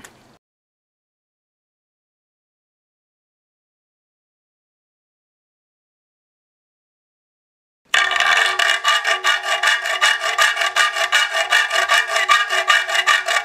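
After long silence, a saw or file works rapidly back and forth through metal plate stock for a homemade air shotgun's butt pad and side plates, a close, rhythmic rasping that continues to the end.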